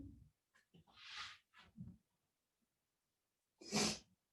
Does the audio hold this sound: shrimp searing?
no